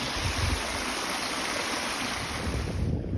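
Water rushing past a second canoe on a stream during a trap check and set day at an outfitters, a steady broadband wash of flowing water with some wind buffeting, continuous and close, no talk.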